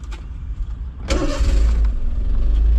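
A Honda Beat's small engine cranks briefly and catches, then settles into a steady close idle, with no talk over it.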